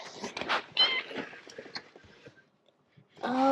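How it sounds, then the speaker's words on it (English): A trapped cat meows repeatedly from inside an air-conditioning unit during a rescue, with several close, varied cries, a brief quiet gap and then a louder burst of meowing at the end. "There's a trapped cat in there."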